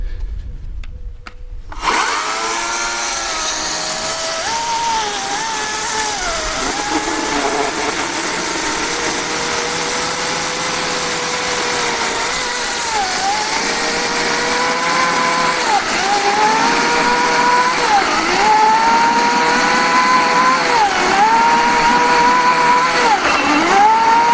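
A GTM 56V 3 kW cordless chainsaw rips lengthwise through oak, starting after a brief quiet moment and then running loud and steady for over twenty seconds, its engine pitch dipping and recovering repeatedly as the chain bites into the wood.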